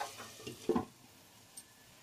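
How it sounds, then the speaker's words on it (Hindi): A spoon stirs tomato sauce cooking in a covered pan, making a faint, soft sizzle with one short, louder scrape partway through, then fading back to a low simmer. "एक बार इसको हम बीच में चला देंगे ताकि ये नीचे अकड़े ना"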